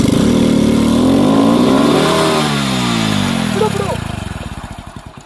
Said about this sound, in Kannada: ರೇಸ್ ಮಾಡು ರೇಸ್ ಮಾಡು